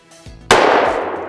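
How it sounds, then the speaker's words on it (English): A single loud .44 Magnum shot with a 240-grain jacketed soft point strikes BulletSafe VP3 body armor, a sharp close crack with a metallic clang that rings briefly and fades, preceded by faint handling noise. "Now we're gonna go to a 240 grain jacketed soft point, 44 Magnum, 1300 feet per second"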